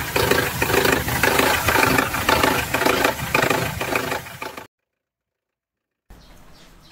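A Mercedes petrol engine runs close by with a steady, rhythmic ticking noise under its hum, then cuts off abruptly before a faint sound returns.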